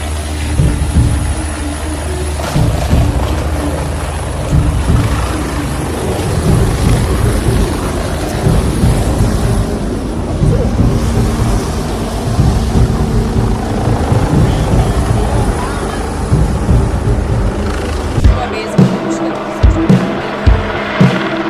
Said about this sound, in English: This helicopter was flying in heavy winds when a small flyer billboard collided with its rotors mid-flight.